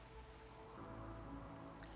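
Steady rain falling in the video game RimWorld during foggy rain weather, a constant soft patter and hiss with a low hum beneath, even and unbroken throughout.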